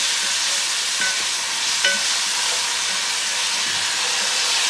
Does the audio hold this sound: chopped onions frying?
yes